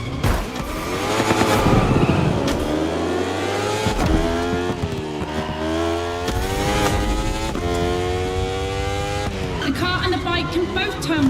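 A 600-horsepower Italian racing car from The Crew Motorfest revs hard and continuously, its engine pitch sweeping up and down through gear changes for the whole stretch.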